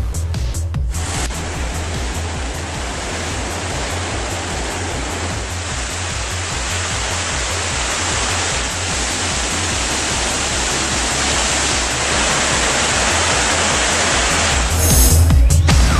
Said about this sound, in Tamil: கும்பக்கரை அருவியில் தண்ணீர் வரத்து அதிகரித்துள்ளது